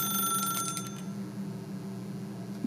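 Office telephone ringing in The Stanley Parable video game, a steady electronic bell tone with sharp rings early on, then a continuous ringing hum over a low background drone, no voices.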